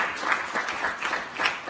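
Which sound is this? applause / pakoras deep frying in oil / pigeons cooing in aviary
applause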